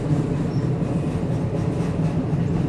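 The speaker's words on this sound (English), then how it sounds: "We're just day drinking under the train bridge while the train is going over." Train rolling over a railway bridge, heard from beneath it as a loud, steady low rumble with faint rhythmic wheel clatter and light metallic squeal.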